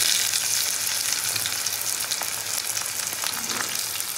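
Chopped onions frying in hot oil in a pan, a steady close sizzle that holds evenly throughout with no talking.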